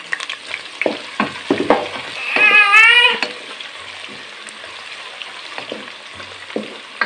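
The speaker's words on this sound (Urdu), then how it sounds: "اس میں ناظرین گھی میں سب سے پہلے ہم ڈالیں گے پیاز، ٹھیک ہے ناظرین۔ پیاز کو ہم نے براؤن کرنا ہے۔" Onions fry in ghee for aloo kofta with a steady close sizzle, while a utensil stirs and clatters in uneven bursts and a brief high squeal rises near the middle.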